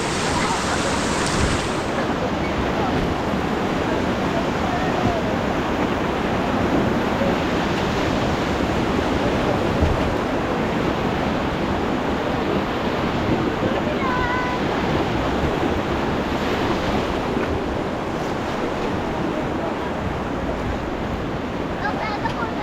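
Rushing water of the Beas river near Kullu, Himachal Pradesh, swollen after rain, a loud steady broadband roar filling the whole stretch with no break.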